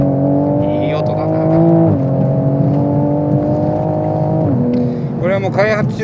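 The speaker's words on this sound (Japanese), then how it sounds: "これはもう開発中のエキゾーストが入っていて、ノーマルよりは、サウンドはかなりご機嫌ですね" A Toyota Supra RZ with a development exhaust revs loudly and steadily, its engine note rising and stepping between gears over a continuous drone, with a voice talking faintly underneath.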